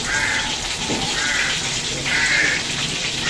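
Crow caws ring out a few times over a steady background of running water or hiss, moderately loud and fairly close.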